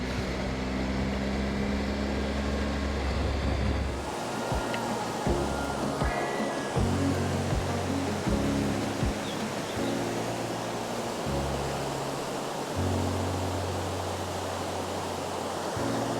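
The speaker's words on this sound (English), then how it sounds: "the sound of the rushing water is really loud" Loud, steady rushing of water falling a few meters fills the scene, a broad continuous roar with low engine-like hum drifting underneath.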